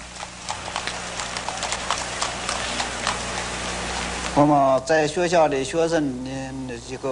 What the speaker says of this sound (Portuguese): o cavalo continua sendo uma ajuda indispensável